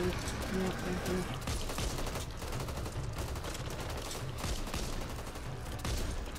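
Gunfire in Back 4 Blood, dense rapid bursts of shots rattling continuously through the clip at moderate level, with no talk.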